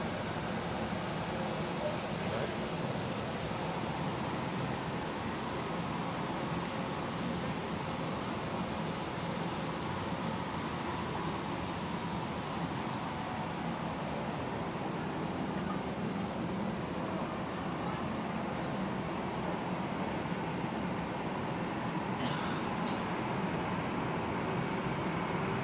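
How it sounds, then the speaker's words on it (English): Steady ambience at busy Hamburg Airport, with a continuous broad roar of aircraft engines and distant jet noise filling the scene, plus a few faint clanks, all at a moderate distance. "Lively little airport, isn't it?"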